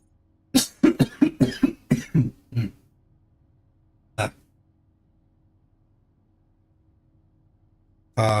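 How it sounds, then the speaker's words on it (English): A quick run of about eight coughs close by, then one more lone cough after a pause, and a final burst near the end. "Cough isn't quite gone."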